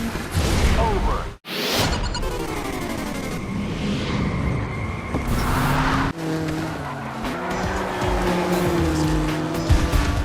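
Rally cars from Colin McRae DiRT 2 roar and skid with loud engine revving, tire squeal and gear shifts, sustained throughout with brief cuts between bursts.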